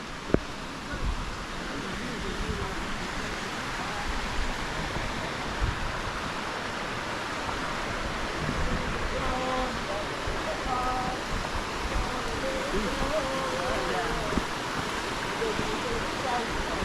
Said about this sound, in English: So this is the second waterfall series.